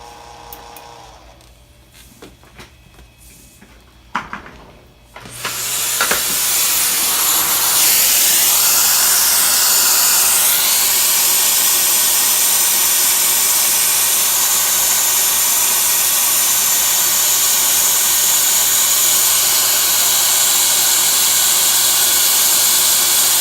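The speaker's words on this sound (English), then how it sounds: "you can use the little tool on the end to vacuum the dust" A vacuum cleaner switches on after a few seconds of quiet handling clicks and runs at a loud, steady whine while sucking dust out of a late-1990s custom-built tower computer, its pitch shifting slightly as the nozzle moves.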